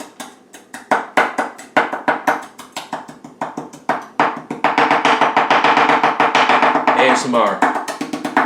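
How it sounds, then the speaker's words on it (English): A knife chopping cooked, partly crispy bacon into tiny bits on a cutting board, with rapid, close, sharp taps in steady rhythm that speed up into dense chopping. "we're going to just go ahead and slice it up, little tiny bits"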